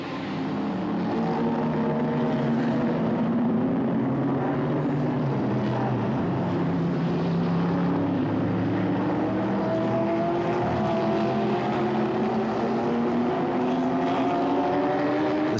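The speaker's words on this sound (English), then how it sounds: "The sounds, the different variety of engine noises somehow seem to be a lot more raucous in the night." Race car engines drone continuously at night during the Dubai 24 Hours endurance race, several overlapping engine notes rising and falling in pitch as the cars pass, loud and unbroken throughout.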